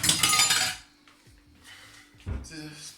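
Metal spatula clinking against a frying pan while a toasted cheese sandwich cooks, a few sharp clatters at the start, then quieter scrapes and a faint hum, with another clink burst near the end.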